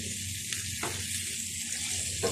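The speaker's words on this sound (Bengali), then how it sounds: "তো মাছ ভাজি করছি আর বেগুন ভাজি" Fish and eggplant frying in a pan, a steady quiet sizzle with faint watery crackle throughout, a couple of brief clicks from the pan, no talking.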